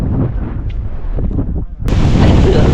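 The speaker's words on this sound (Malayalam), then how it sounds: "ഒരു രക്ഷയില്ല കാറ്റ്" Strong wind on the Agasthyarkoodam mountain trail, a dense roaring rush that dips briefly and then surges louder, with no talking.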